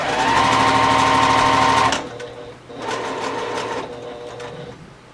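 Sewing machine back-stitching a fabric pencil pouch: a loud fast whirring run for about two seconds, then shorter, quieter stitching bursts after a pause.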